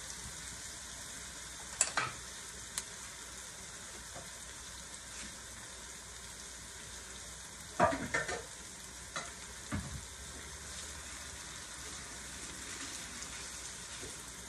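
Cabbage frying in a pan gives a steady, soft sizzle throughout, with a few louder scrapes and stirring clatters midway.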